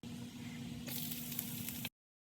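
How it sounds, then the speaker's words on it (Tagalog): Onion and garlic sizzle softly in a pan, a steady low frying hiss that brightens into crisper crackling halfway through before cutting off abruptly. "Sunod naman ay gisahin ang sibuyas at bawang ng bahagya."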